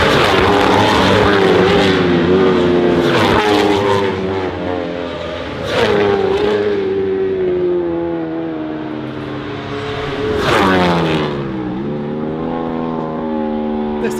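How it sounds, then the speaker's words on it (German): WorldSBK superbike racing motorcycles scream past at the Misano circuit, loud high-revving engines rising and falling as several bikes pass close, with one sharp Doppler drop near the end. "So, die ersten Fahrer kommen und jetzt hört euch einfach den Sound an."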